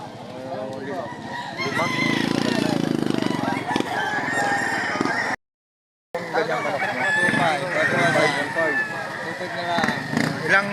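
Fighting roosters crowing amid a busy gamecock market in Lipa, Batangas, several crows rising over dense crowd chatter and clucking, with people talking nearby throughout and a brief gap of silence midway.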